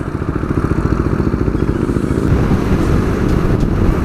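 A Harley-Davidson motorcycle rumbles past nearby with a loud, throbbing low engine note, its exhaust pulses steady and close for the few seconds it goes by.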